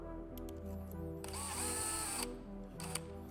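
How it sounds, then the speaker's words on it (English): A small power driver with a T15 bit runs a screw into a scope mount base, giving a brief close whir that rises to a strained buzz, then stops. "Put a screw into the base with a T15 driver."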